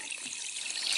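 Water runs into a sink in the Toca Kitchen 2 video game, a short, steady hissing trickle that swells slightly toward the end, heard alone without talk.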